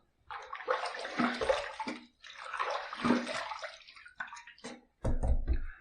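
Water splashing and running as a razor and face are rinsed during a wet shave, two long sloshing bursts followed by short drips and a final splash, fairly quiet and close.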